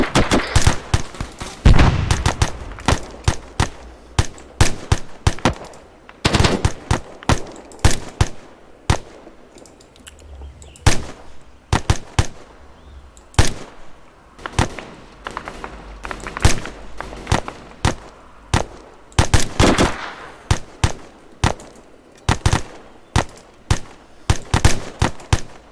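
Sustained gunfire in an ArmA 3 platoon training battle among town buildings: dense, irregular volleys of rifle and machine-gun shots, some near and sharp, others more distant, with occasional thuds and no talk.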